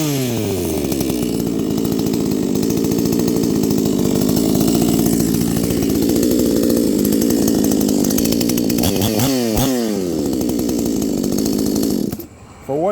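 A small chainsaw engine runs steadily and loud for most of the stretch, with a few quick throttle changes near the end before it cuts out abruptly.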